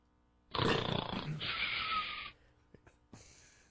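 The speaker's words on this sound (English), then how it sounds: "That's you snoring last night." A person snores at home overnight, one loud, rough snore lasting over a second, then a few soft breathy snorts and a short second snore at the end, close and otherwise quiet.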